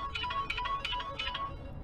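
A phone rings with a quick, repeated electronic trill in short bursts, fairly faint under a low background rumble at a home construction remodel.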